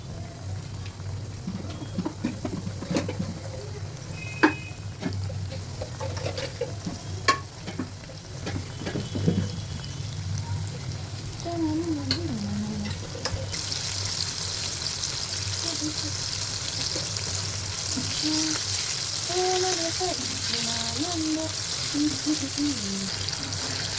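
Marinated chicken popcorn pieces frying in hot oil, a continuous sizzle with scattered clinks early on, then a brighter, denser hiss for the second half, while a voice talks intermittently over it.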